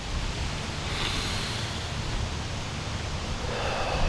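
An outdoor breeze buffets the microphone, making a steady, loud rushing roar that fills the whole stretch with no talking over it.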